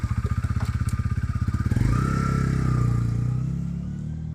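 A Honda CB 125 R motorcycle engine turns over with a rapid starter-motor churn, then catches and settles into a steady, fairly loud idle close by, fading slightly at the end.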